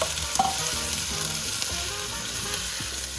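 Mixed vegetables going into about four tablespoons of hot olive oil, frying with a dense, continuous close sizzle and a few stirring scrapes.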